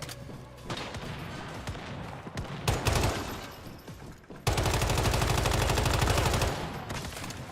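Gunfire in the video game Once Human, with scattered single shots and short bursts followed by a long sustained stream of rapid automatic fire, loud and close.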